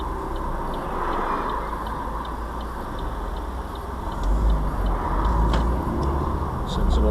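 Steady, faint indicator ticks from a learner car's turn signal at a roundabout, repeating evenly under road and engine rumble.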